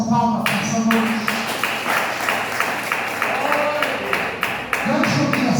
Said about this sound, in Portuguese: Exalta Jesus com palmas nessa noite.